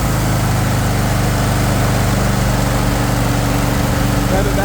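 A Troy-Bilt Mustang XP 50-inch zero-turn riding mower idles steadily up close, its small engine putting out a constant low throb, with a voice talking over it.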